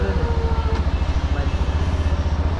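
A brand-new Yamaha version 4 motorcycle engine thumps in a steady, rapid low pulsing rhythm close by, loud and continuous throughout the short stretch.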